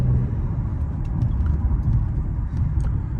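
A car engine rumbles steadily at close range, a continuous low drone with a faint high whine, like a vehicle pulling away under power.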